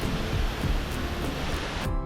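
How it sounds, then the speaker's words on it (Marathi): The wide, fast-flowing Gveleti waterfall in Georgia, fed by snowmelt and natural springs, gives a steady, dense roar of rushing water that stays loud throughout and cuts off abruptly at the end. "धबधब्याची रुंदी बरीच होती आणि वेगही अफाट"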